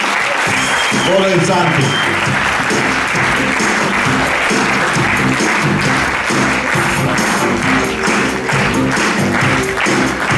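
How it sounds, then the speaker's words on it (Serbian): Seminar audience breaking into loud, sustained applause, dense clapping that fills the room while a voice speaks over it. "Veliki aplauz, dupla palma i star menadžeri."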